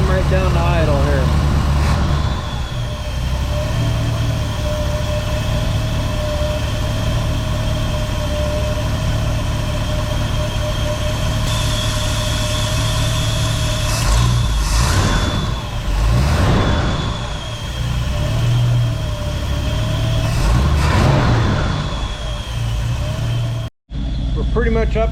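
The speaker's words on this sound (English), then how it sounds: "we should be able to tickle this throttle just a little bit and have it come right down to idle here" A 1970 Ford Torino V8 with a four-barrel carburetor runs steadily near by, with a few short throttle blips rising and falling before it settles back to a smooth idle.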